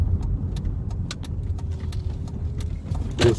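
Dodge Caravan, 2008 to 2020, driving through a U-turn with a low engine rumble as the gas is applied, accompanied by light interior rattles and faint clicks, recorded from inside the vehicle.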